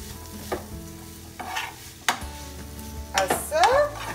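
A spoon scrapes and turns plant-based Thai basil chicken with cilantro as it fries in a pan, making several distinct stirring strokes with clinks against the pan over a low sizzle.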